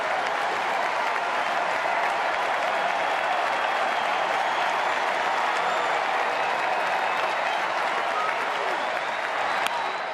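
A steady, dense roar from a big baseball crowd at Fenway Park in Boston, with cheering and applause holding for the whole stretch. Distant voices are mixed in, and one brief sharp accent comes near the end.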